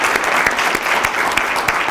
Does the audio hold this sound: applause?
yes